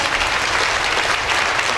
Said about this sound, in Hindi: जोरदार ताली बजाएं आप।